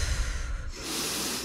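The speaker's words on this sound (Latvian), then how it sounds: "Elpojiet kopā ar mani." Slow breathing in and out during a calming exercise, a steady airy rush of breath that swells louder and brighter partway through, close and alone with no talking.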